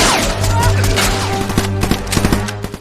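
A quick run of sharp gunshots rings out as two men are shot in a film scene. The shots come in a rapid cluster near the end, over loud, steady background sound while a voice talks.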